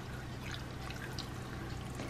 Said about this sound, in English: So now it's time to pour the brine over my vegetables.